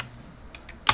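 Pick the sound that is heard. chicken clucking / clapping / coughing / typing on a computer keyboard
typing on a computer keyboard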